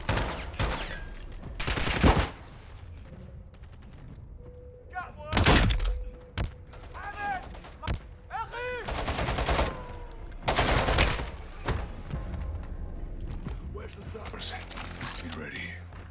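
Gunfire in Modern Warfare 2 gameplay, sharp loud bursts and single shots scattered across the clip alongside thuds and impacts, with someone talking in between.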